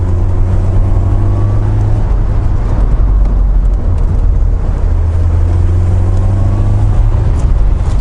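A supercharged Mercedes SLK accelerates hard, its engine a loud, steady drone with rising tones, heard from inside the car over heavy wind rush and with no talking.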